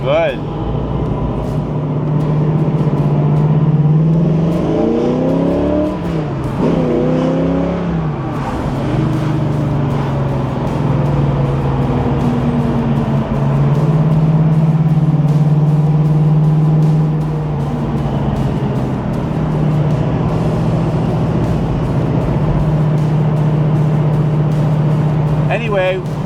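A 1969 Camaro Z/28 with a 302 V8 and four-speed manual is driven, its loud, deep engine note rising and falling through gear changes, steady and close from inside the car.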